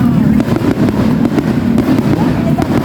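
Repeated sharp pops and bangs of fireworks burst at a village fiesta in the Philippines, over a loud, steady background rumble, with voices faintly mixed in.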